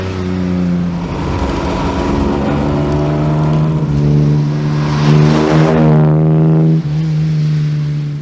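An Aston Martin, a DB2-era classic sports car, sounds its exhaust note: a loud, steady engine drone with strong low harmonics that rises in pitch as the car revs up, then settles back, close by, with no one talking.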